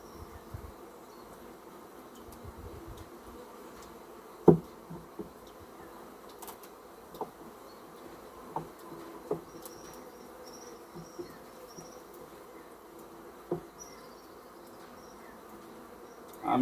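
Bees hum in a steady low drone around an open beehive during a hive inspection, a continuous close buzz with a few sharp knocks and clicks from handling the boxes.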